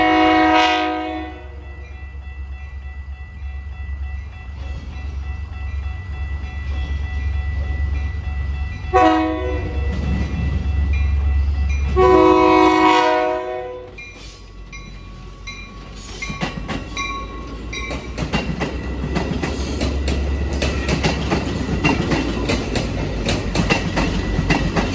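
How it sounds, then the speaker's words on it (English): An inbound Metra Milwaukee District North commuter train sounds several loud horn blasts as it approaches, then rumbles past with rhythmic clattering of wheels on rails that continues to the end. "Here we catch an inbound Milwaukee District North train."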